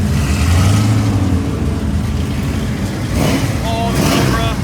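A car engine revs loudly at a car show, a deep rumbling idle that swells into rising revs, with people talking nearby and crowd noise around.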